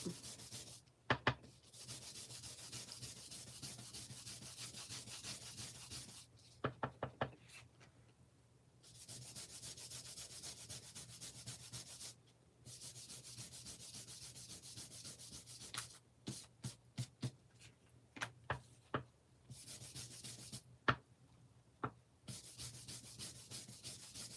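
An ink-blending brush lightly grazes Uncharted Mariner ink across the top of a card over an iced spruce base. Soft, close scratchy rubbing comes in steady bursts separated by short pauses, with no voices.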